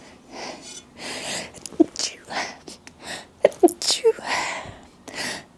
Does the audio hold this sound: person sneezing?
yes